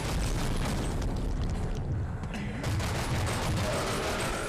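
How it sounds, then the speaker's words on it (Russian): Dense gunfire in the video game Ebola 2 as barrels are shot, a loud continuous barrage of shots and booms filling the whole clip with no pauses. "пробую расстреливать эти бочки."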